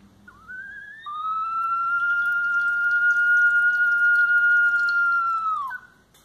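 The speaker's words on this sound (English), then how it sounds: "The reason it whistles, it's because inside each of these pieces we have something like this." A Peruvian water-filled ceramic whistling vessel gives a single long, steady, pure whistle of about five seconds as air is pushed out, ending with a brief downward slide, clear and close with nothing else heard.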